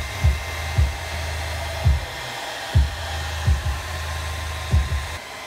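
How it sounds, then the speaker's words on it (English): A hair dryer blows steadily on a car emblem to loosen it, a constant droning whoosh with recurring low thumps and swells every second or so as it moves around the badge, loud and close. "You're gonna wanna blow dry the emblem for 45 seconds to a minute."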